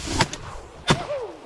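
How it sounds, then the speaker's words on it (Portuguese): A gunshot rings out during a wild boar hunt in brush with dogs around the animal: two sharp, loud cracks about 0.7 seconds apart, the second followed by a brief rising whine. "Vem o primeiro disparo."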